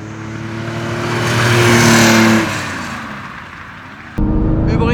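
A 1971 Porsche 911 2.2 T with 170 hp revs loudly while driving, swelling to a peak and then easing off, before a sudden shift to steady, broadband road and engine noise near the end.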